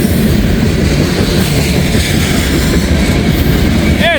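A mixed manifest freight train rolls steadily past at Walton, a continuous loud rumble of wagons and wheels on rail with a brief wheel squeal at the very end, no talking.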